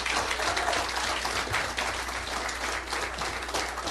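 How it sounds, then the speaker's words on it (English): Audience applause at a city council meeting in honour of a children's team; dense, continuous clapping from a crowd, fairly loud and steady for the whole stretch with no talk over it. "this is a round of applause for these kids"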